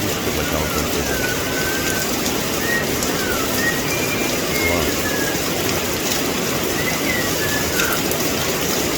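Steady monsoon rain falls in Lonavla as a dense continuous hiss, with faint bird calls chirping intermittently through it.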